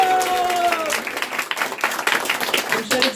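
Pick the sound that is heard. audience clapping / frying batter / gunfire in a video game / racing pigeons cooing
audience clapping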